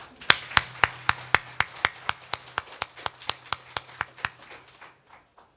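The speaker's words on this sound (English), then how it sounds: "give her a round of applause" Steady, evenly spaced hand claps ring out close and crisp at a gala, about three or four per second, fading away toward the end.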